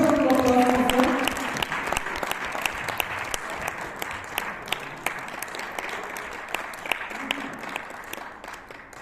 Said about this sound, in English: Please have a big round of applause for them.